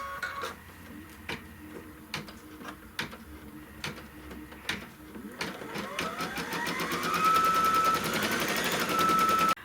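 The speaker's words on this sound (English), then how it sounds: "we're going to put the hoop back on the machine, and it's going to stitch the tack down" An embroidery machine stitches a tack-down line on felt, starting with spaced single thumps, then building into a rapid, whirring stitching rhythm with a rising motor whine that grows louder toward the end.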